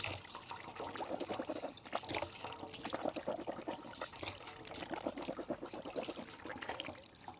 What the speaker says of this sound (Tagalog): kukuha tayo ng tubig at para magmugmog ng 3 beses